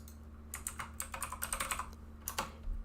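Typing on a computer keyboard in an office-style setting, a quick irregular run of close key clicks with a steady low hum underneath.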